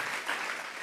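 Church congregation clapping together during a sermon, a dense, steady wash of many hands with no pauses, fairly quiet and alone.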